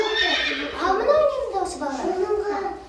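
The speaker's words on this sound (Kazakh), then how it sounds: "Жылқы да бар екен, е?" A horse in a village farmyard lets out a single loud, drawn-out whinny that rises and falls, close by, with a voice faintly in the background.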